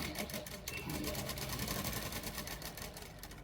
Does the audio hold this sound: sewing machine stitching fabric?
yes